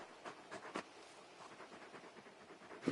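Rapid, soft panting from a big dog companion in the video game Final Fantasy XVI, a few quick breathy bursts at low volume with no talking.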